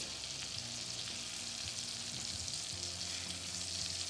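Veal cutlets frying in a hot pan as they build a golden crispy crust, giving a dense, even sizzle and crackle that stays constant throughout, fairly faint, with no voices.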